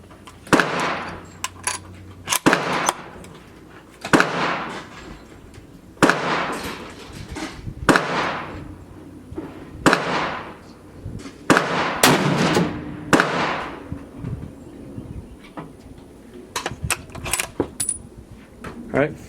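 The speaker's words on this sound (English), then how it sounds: "All right, final shot here." Savage 111 Trophy Hunter XP .30-06 rifle fires a series of sharp, loud shots spaced a few seconds apart outdoors, each crack followed by a short decaying echo, roughly ten shots in all.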